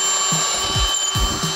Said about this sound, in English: Start out with the drill, right here along the side.